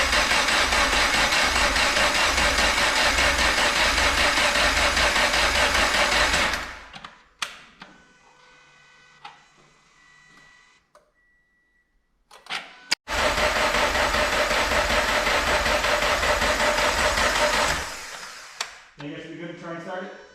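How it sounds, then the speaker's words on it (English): A Subaru BRZ engine being cranked in flood-clear mode to build oil pressure: two long, steady, loud stretches of mechanical cranking separated by a quiet pause that holds faint clicks and rustles. "I'm going to do a few like flood clear out cranks just to try and build some oil pressure."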